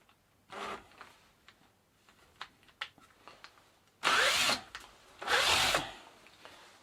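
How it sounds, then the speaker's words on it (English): A cordless drill spins a bicycle dynamo in two loud whirring bursts of about half a second each, preceded by a shorter buzz and scattered small clicks and handling noises. "that's the fastest setting for the cordless drill"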